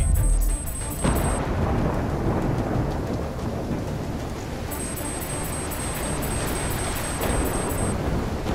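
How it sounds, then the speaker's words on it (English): Thunderstorm in the Call of Duty: Black Ops 3 video game, a loud rolling thunder crash opening into a steady, dense roar of heavy rain and wind that fills the whole stretch, with no talking. "Incoming superstorm too strong. Storm's only gonna get worse."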